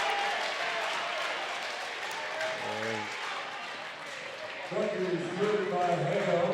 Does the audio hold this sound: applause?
yes